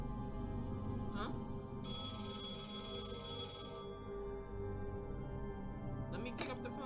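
A telephone rings inside the video game The Lion's Song, a burst of bright repeated trill lasting about two seconds, set among quieter game sounds and faint background murmur.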